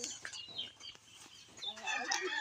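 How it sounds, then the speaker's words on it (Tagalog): Chickens cluck faintly in short bursts, with a few louder calls near the end and soft background noise. "dami pong mga manok-manok ni Lola Ninita."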